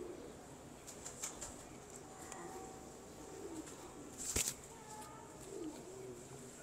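Dumcheer pigeons, bred from Dumcheer and Nyono stock, coo softly in a quiet loft, with a brief flurry of flapping wings partway through.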